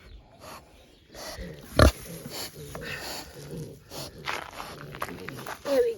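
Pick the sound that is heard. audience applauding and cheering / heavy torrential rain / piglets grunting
piglets grunting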